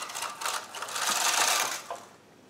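A Studio 150 chunky knitting machine carriage sweeps across a row of knitting, giving a continuous mechanical whirring and clatter that swells and fades over a couple of seconds, close and alone.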